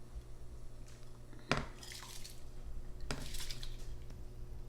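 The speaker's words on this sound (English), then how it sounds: "So now we're going to empty this rice here." Parboiled rice being emptied from a pot while making Persian rice with tahdig: two distinct pouring, splashing bursts of rice and water with a clatter of the pot, close and fairly loud against a steady kitchen background.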